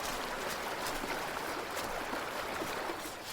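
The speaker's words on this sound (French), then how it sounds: "Le roulis de l'eau d'une rivière toute proche." Faint, steady rushing of a nearby river, a continuous broadband wash with no other clear sounds.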